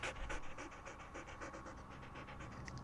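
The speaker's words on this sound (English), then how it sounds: "It freaks me out that their chest doesn't move when they're panting." A ghost dog from the Nancy Drew game Ghost Dogs of Moon Lake pants in quick, steady rhythmic breaths, close and continuous, with no talk over it.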